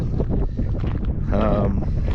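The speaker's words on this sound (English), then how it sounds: "A little windy today, unfortunately." Steady wind buffeting a microphone outdoors on Hole in the Rock Road, a continuous loud rumbling roar with gusty fluctuations.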